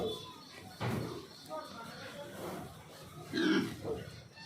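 Black village pigs grunt and snort in short, rough bursts, punctuated by a hollow thump like a gate or door banging nearby.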